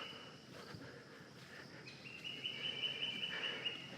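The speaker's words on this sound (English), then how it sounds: "Hear the birds screaming." Faint outdoor ambience in a mangrove swamp with a thin, high bird call running through the second half, distant and quiet.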